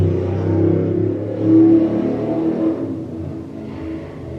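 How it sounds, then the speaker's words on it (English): Car engines revving outside, a low rumbling drone with rising and falling surges, heard from indoors at moderate level with no talking. "I can't control how people be, you know, raving up their cars outside"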